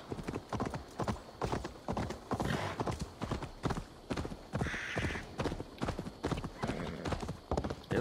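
Horse hooves in the video game Assassin's Creed Valhalla clop in a steady trotting rhythm, close and continuous, with brief bursts of other game sounds and no voices.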